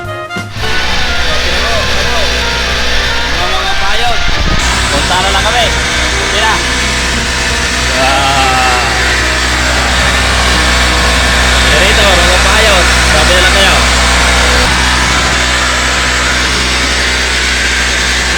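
A repaired generator engine runs steadily with a loud, constant mechanical hum and low drone for the whole stretch. People talk over it.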